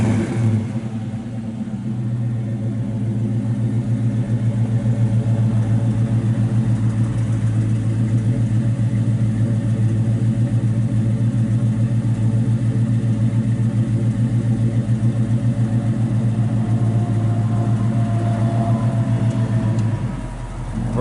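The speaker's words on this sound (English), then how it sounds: "Car sounds real good out the back." A 1968 Chevrolet Camaro RS with a numbers-matching 327 V8 idles steadily from the rear, a deep rumbling burble with rhythmic exhaust pulses, loud and close for about twenty seconds before cutting off.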